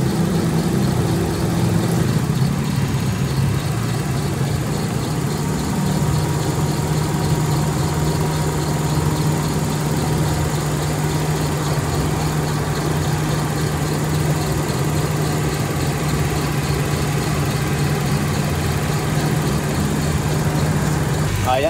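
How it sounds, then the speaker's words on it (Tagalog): A Toyota Crown engine idling steadily up close with the air-conditioning compressor running, a constant low rumble overlaid by a faint sustained whine that continues evenly throughout. "Medyo may huni na po yung ano niya, yung compressor."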